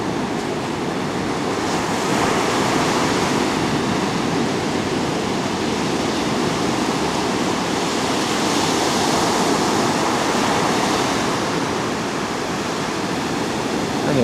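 Ocean surf rolls onto a sandy Australian beach, a steady, full roar of breaking waves that swells gently and carries on unbroken without any talk.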